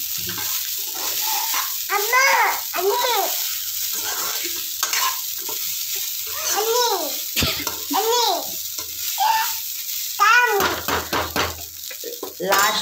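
Chili powder being stirred into jeera rice in a pan, with soft scraping and a gentle sizzle running throughout, while a voice talks over it at intervals.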